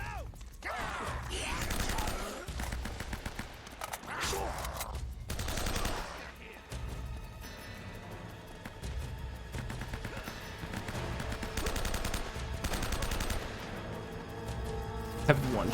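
Sniper and other gunfire in Uncharted: Drake's Fortune, a scatter of sharp shots and mechanical clatter over a busy game backdrop, moderately loud, with a player's voice talking at times.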